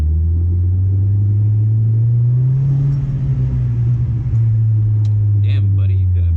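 An Audi B6 A4 with a full ECS catback exhaust drones low and loud while driving at night, a steady deep rumble that swells briefly mid-way, with a little talk near the end.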